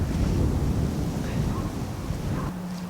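Wind gusting across an open pond on an early spring day buffets the microphone in a steady, loud, rumbling rush with no let-up.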